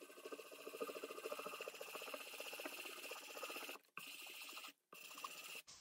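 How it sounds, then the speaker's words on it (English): Light sanding of a decorated cover in circular motions makes a steady, soft, close rasping scratch with a fine rhythmic texture, broken by two brief pauses near the end. "I'm just going to sand this lightly in circular motions."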